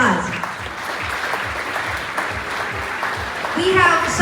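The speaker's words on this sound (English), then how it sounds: "Let's give Heather a round of applause" Audience applause at a green growth convening on Saipan, a steady wash of clapping with a low rhythmic thumping beneath and a voice rising near the end.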